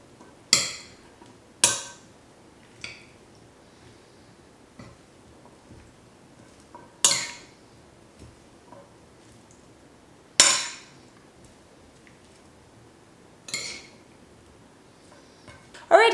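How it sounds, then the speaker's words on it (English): Ingredients for a Mediterranean chickpea Greek salad being mixed in a bowl, with a few sharp, scattered clinks and knocks separated by long quiet gaps and no talking. "And now let's mix all these ingredients together."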